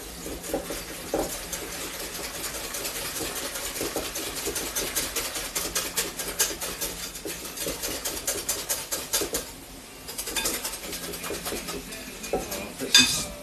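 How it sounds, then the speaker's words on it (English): Batter for toad in the hole being whisked in a bowl, a steady rapid scraping and clatter of whisk against the bowl running throughout, fairly close, with a brief pause near the end. "So we just want to mix this, whisk this together"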